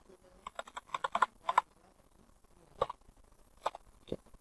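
Keys on a computer keyboard are tapped in a short quick burst, then a few scattered single keystrokes follow, faint and close in a quiet room.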